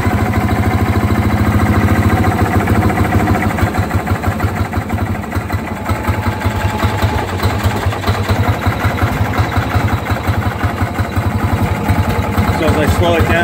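Fairmont MR19 rail speeder engine, a Norfolk & Western unit, running steadily and revved a little, a loud continuous rhythmic putter close by that dips slightly in the middle, with talk over it.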